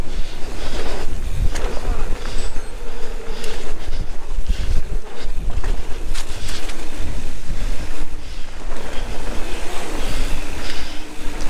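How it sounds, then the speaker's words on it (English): Strong wind buffets the microphone on a ski slope at Boyne Highlands during a downhill run, a steady loud roar filling the whole stretch with no break. "Lots of wind right now."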